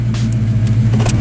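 Fox Body Mustang V8 after a GT40 head, intake and cam swap, idling loud and close with a deep, lumpy rumble and slight throttle blips, no talk over it.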